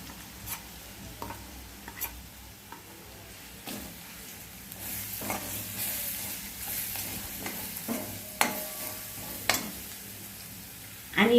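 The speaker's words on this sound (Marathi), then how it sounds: "आणि हे जिरं आणि धनेपूड आहे हे टाकते" Cumin and coriander powder go into an aubergine curry sizzling in a pan, giving a steady close fry hiss broken by scrapes and stirring taps. Louder clacks come near the end.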